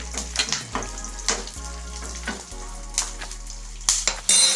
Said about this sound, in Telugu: డ్రై ఫ్రూట్స్ అన్నీ వేసుకున్న తర్వాత ఈ విధంగా ఫ్రై చేసుకోవాలి